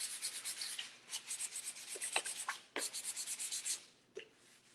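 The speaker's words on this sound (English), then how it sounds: "if you just give it a light sand. This is 2020 or 220 grit sandpaper." Frame edges get a light sanding with 220 grit sandpaper: a soft, close rubbing scratch in quick back-and-forth strokes, quiet, with a few brief pauses and no talk.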